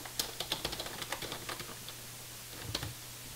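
Quick, light clicks of a password being typed on a computer keyboard, a close run of keystrokes that pauses briefly and then finishes with a few more taps.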